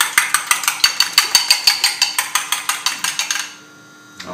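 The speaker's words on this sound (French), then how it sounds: "Je vais battre une dernière fois mon omelette." An omelette is beaten in a bowl, a brisk run of about twenty rhythmic whisking clicks against the bowl, close and clear, stopping abruptly before a single faint tap.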